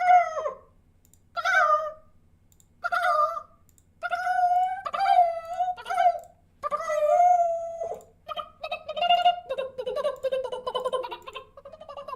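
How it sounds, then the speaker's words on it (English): A chicken-like clucking and crowing sound effect for a video game plays as a string of loud, separate bursts, then runs into a denser, busier stretch toward the end. "you can just be the chicken sound"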